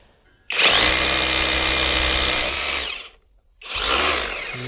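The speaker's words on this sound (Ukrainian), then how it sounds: "крутий перфоратор, реально крутий" A loud, steady Leader cordless rotary hammer drills with a 22 mm bit for about two and a half seconds, stops briefly, then starts drilling again.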